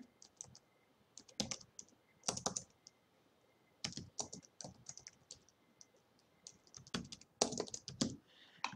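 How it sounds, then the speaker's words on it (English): Someone types a document name on a computer keyboard in a quiet room, with short bursts of quick key clicks separated by pauses. "it opens up a text box where I can type in the name of my document"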